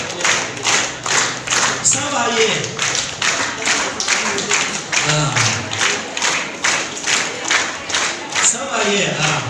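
Audience clapping in unison at a Mother's Day program at CRC Yupia, steady rhythmic claps throughout, with a voice and crowd voices over them.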